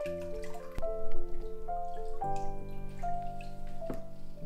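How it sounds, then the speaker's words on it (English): Water strains and drips steadily from a papermaking mould and deckle holding algae pulp, a close run of small drips and trickles over a faint sustained hum. "Wait the ridiculous amount of time for the water to strain out,"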